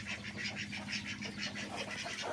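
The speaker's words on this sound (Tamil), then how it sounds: "இது முட்டை போடுற வாத்து." An egg-laying duck quacks in a quick, regular series of nasal calls, faint and fairly close, with no talking over it.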